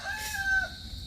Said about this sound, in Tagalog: May mga manok sa ano